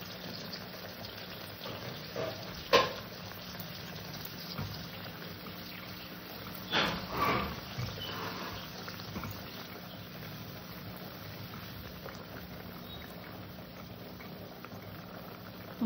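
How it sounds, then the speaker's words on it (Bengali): A covered pot of thin bitter gourd and potato curry with fish simmers on the stove, giving a low, steady bubbling hiss with a few louder clinks and knocks. "তরকারিটা আমি ঢেকে সুন্দর করে ফুটিয়ে নেব।"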